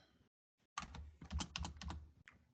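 Quiet, quick bursts of typing on a computer keyboard, a run of close, crisp key clicks after a brief pause, with no talking over them.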